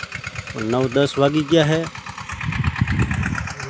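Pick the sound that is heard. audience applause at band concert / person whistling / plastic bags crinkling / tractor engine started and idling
tractor engine started and idling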